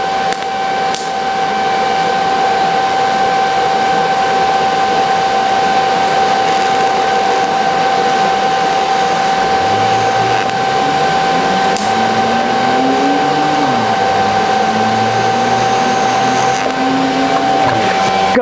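TIG welding a bracket onto a leaking fuel tank gives a steady, close hiss with a constant high tone, while a droning engine rises and wavers underneath in the later half.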